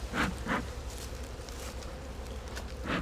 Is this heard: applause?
no